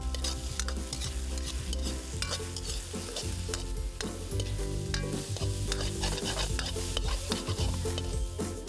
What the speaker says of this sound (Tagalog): Pagkatapos na masute na yung mga tomato, garlic, and onion, ilalagay na natin yung eggplant, tapos yung egg.